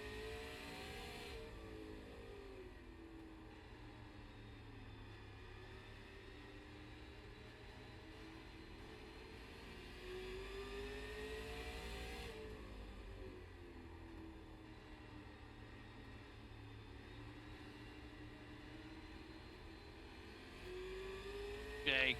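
A late model stock race car engine drones steadily from the cockpit of a car running behind another at Stafford Motor Speedway. The rising and falling engine note repeats lap after lap and stays loud and continuous.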